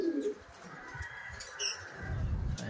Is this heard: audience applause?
no